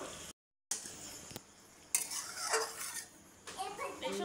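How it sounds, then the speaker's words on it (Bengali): A spoon stirs fish curry in a pot, producing close scraping and clattering against the metal over a faint simmering sizzle, with a brief silent gap near the start. "নেড়ে চেড়ে দিলাম।"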